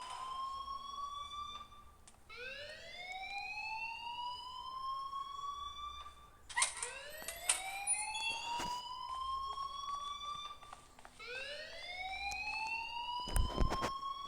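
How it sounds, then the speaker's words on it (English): A fire alarm in the Life Is Strange video game sounds repeated rising electronic sweeps, each tone gliding upward and then holding, at a moderate level with short gaps and a few sharp bursts between cycles. "please turn off that alarm since that's your job"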